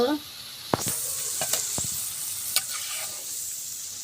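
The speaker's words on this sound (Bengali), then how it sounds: "ফ্রেঞ্চ ফ্রাইগুলো সুন্দর করে ভেজে নেব লাল লাল করে" French fries sizzle in hot oil with a soft continuous hiss, punctuated by a few sharp clicks of stirring.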